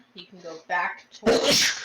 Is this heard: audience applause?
no